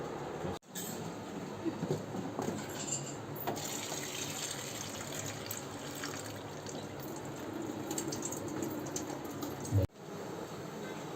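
Chopped papaya being rinsed in water for candied tutti frutti, a steady running-tap and sink-washing rush lasting throughout with soft squishy handling, broken by two brief dropouts near the start and end.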